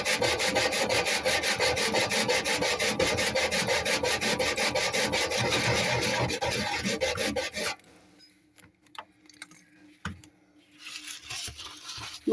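Kitchen roll scrubbing hard at the inside of a microwave, a dense, continuous rasping rub for about eight seconds that then stops abruptly, leaving only a few faint knocks and small handling sounds.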